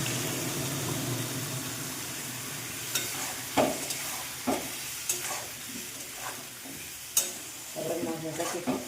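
A spice paste of ground coriander and turmeric mixed with water, along with tomato, fries in a pan with a steady sizzle. A spatula stirs and scrapes through it at irregular intervals, and no one speaks.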